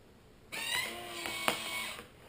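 A vacuum sealer runs a steady mechanical whir with a brief click partway through as it heat-seals the edge of a Mylar bag, heard up close with no talk.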